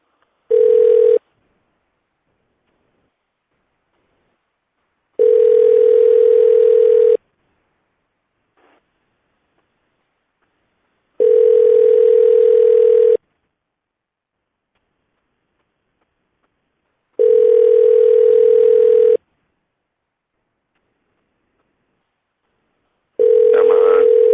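Ringback tone on a phone line as a call is placed, a steady electronic burr repeating five times in roughly two-second bursts with about four seconds of silence between each, loud and clear with no talk over it.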